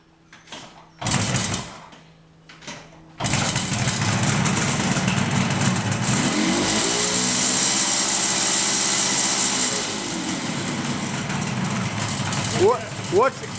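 A restored Kawasaki 500 H1 two-stroke motorcycle engine runs steadily close by after a couple of brief bursts, with a rising revving sweep in the middle. Voices talk intermittently over the engine noise.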